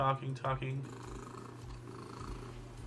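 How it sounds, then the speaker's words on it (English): After a moment of talking, a cat purrs close up, a low rumbling purr pulsing steadily. "I gotta hear this loud purr"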